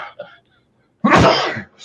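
A single loud, close sneeze bursts out alone after a brief pause, preceded and followed by faint murmuring voices.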